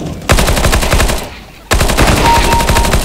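Rapid automatic gunfire from a Counter-Strike deathmatch on an Italy map, loud and dense bursts that break off briefly mid-clip before resuming, with no speech over it.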